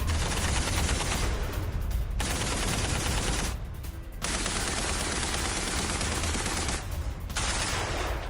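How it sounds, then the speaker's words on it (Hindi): Sustained bursts of gunfire from news footage of an attack during a NATO summit period, dense loud crackling volleys broken by two short pauses, with no talk over it. "राहुल, इस खबर के साथ वो गन वाला विजुअल चलाइए"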